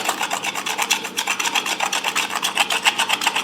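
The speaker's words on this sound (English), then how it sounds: "Old duct tape. So we'll scrape all that off." Old duct tape scraped off a Land Rover Defender gearstick with a blade, a close, steady rhythmic rasping of quick repeated strokes heard alone.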